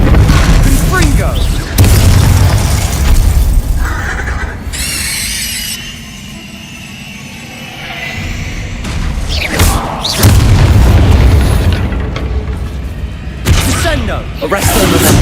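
Confringo blasting spells going off in the video game Hogwarts Legacy, a series of loud, heavy booming explosions with crackling, whooshing tails, separated by a brief quieter lull.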